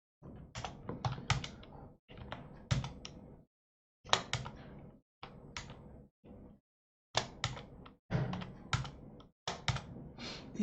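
Keys clatter on a computer keyboard during data entry in Excel, quick close bursts of typing separated by short silent pauses, loud and alone without any voices.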